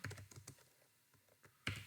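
Code is being typed on a computer keyboard: a quick flurry of light, close key clicks, a short pause with a few soft taps, then one sharper keystroke at the end.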